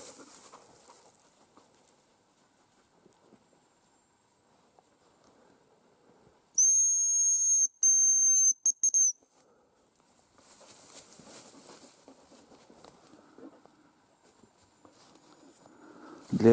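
A hunter blows a decoy whistle to call hazel grouse in the forest. It gives a thin, high, piercing whistle in a few quick bursts, alone in a quiet woodland, with faint rustling before and after.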